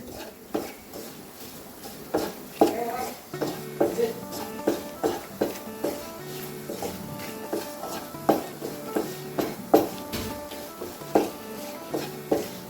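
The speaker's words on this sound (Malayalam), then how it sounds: "ഇപ്പോഴാണ് നമ്മൾ മസാലകളൊക്കെ മൂപ്പിക്കുക" Spices roasting in a pan for Tamil Nadu tiffin sambar, stirred with a metal spoon: a steady series of clinks and scrapes against the pan every half second or so, over a soft frying hiss, close and moderately loud.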